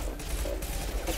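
Rapid hip-fired gunfire from a weapon in Mass Effect 2, a dense continuous fusillade of close, loud shots in a sci-fi combat setting.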